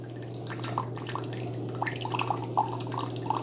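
A Keurig K-Iced coffee maker runs a strong 8-ounce brew through a reusable K-Cup, giving a steady low machine hum with soft gurgling and dripping liquid trickling on top.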